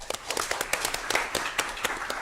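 Scattered clapping for a student at a school governing board meeting, a few hands with distinct individual claps over a couple of seconds.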